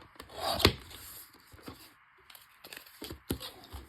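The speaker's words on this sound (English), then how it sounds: "I'm just going to open it up and take this little flap off" A cardboard party favor box is torn and rubbed by hand as a small flap comes off, giving scattered rough rasping and crinkling bursts with short pauses, close and fairly quiet.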